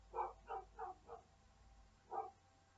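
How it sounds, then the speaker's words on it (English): A dog barks outside, heard faintly through the walls of a quiet room: four quick barks in a row, a short pause, then a single bark. "Sorry about that, it's Luna barking outside"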